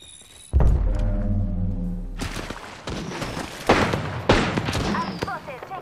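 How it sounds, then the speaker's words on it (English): Grenade blast and bursts of gunfire in the battle royale shooter Apex Legends, a loud booming explosion followed by rapid volleys and further sharp shots during a squad fight, with game voice lines over the action. "Look out, grenade!"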